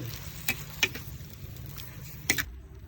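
Papait sautéing in a pan, a soft steady sizzle beneath a few sharp clicks and scrapes of a utensil against the pan, ending abruptly near the close.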